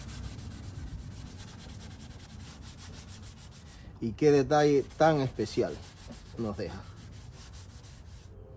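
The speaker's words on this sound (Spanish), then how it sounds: "Les voy a dejar ver cómo vamos lijando y limpiando esta parte" Steady rasping of sandpaper rubbed back and forth on a surface, close up, with someone briefly talking over it midway.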